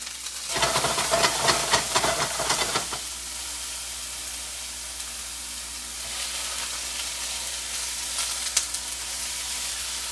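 Garlic and blanched asparagus sizzle in a hot pan, with a burst of loud crackling and stirring at first that settles into a steady hiss of frying.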